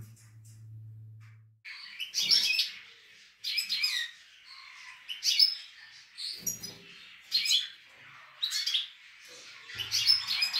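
Canaries and goldfinches in a breeding cage chirp and tweet in bright, quick bursts, with about seven clusters of calls separated by short quiet gaps, fairly close and moderately loud.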